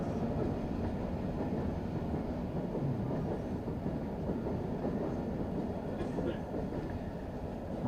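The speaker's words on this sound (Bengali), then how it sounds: "আরে ট্রেনটা ডিস্টার্ব করলো।" A train passes near an outdoor religious sermon in Bangladesh, a steady loud rumble with rhythmic clatter of wagons lasting the whole stretch, filling the background without any speech.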